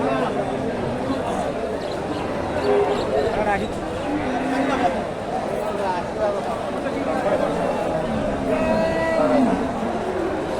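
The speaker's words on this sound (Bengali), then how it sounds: "এখানে একটা সুন্দর একটা গরু" A dairy cow at a Bogura cattle market moos repeatedly in drawn-out lowing calls, close by, over steady crowd chatter and someone talking nearby.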